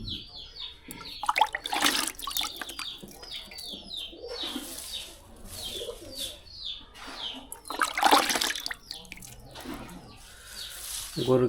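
Hot water pours into powdered cattle feed being mixed on a winter day in northern Bangladesh, a splashing, gushing stream coming in bursts amid steady outdoor birdsong and chirping.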